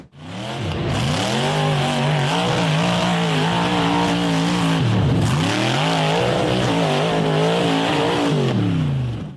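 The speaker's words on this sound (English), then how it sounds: "The white and red buggy revved hard as it climbed the dirt hill in the dark" The engine of a white and red off-road buggy revs hard and continuously as it climbs a dirt hill in the dark, pitch rising and dipping through several surges, with a brief drop around midway before climbing again.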